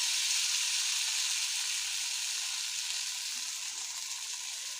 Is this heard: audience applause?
no